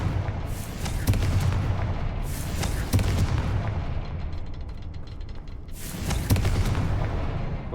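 A Confringo spell explodes in the video game Hogwarts Legacy, heavy booming blasts and rumbling bursts recurring over several seconds, loud and close, with a dimmer roaring stretch between the blasts.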